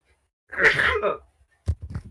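A single person sneezes sharply at close range, a short noisy burst followed after a pause by a quick second breathy sound, with quiet before and between.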